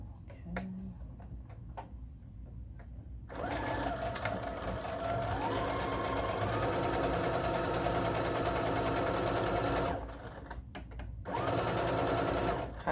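Sewing machine stitching a cotton garment, a fast continuous mechanical whir with rapid ticking that runs for several seconds, pauses briefly, then starts again, heard close and alone.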